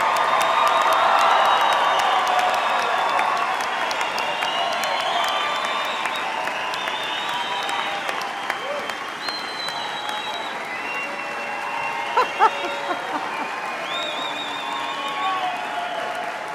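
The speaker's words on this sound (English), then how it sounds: "please stand and accept the applause from those of us around you who love and honor you today" Sustained applause from family and guests for graduates at a Fort Lewis College spring commencement ceremony, a broad steady crowd roar with scattered claps and cheers, voices murmuring underneath, continuing for many seconds.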